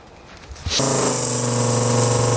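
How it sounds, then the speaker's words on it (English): A UTV or backpack sprayer used for food plots starts spraying after a quiet moment, then gives a loud, steady hiss that holds evenly to the end. "we visually watch this sprayer spray a little bit, see where it wets"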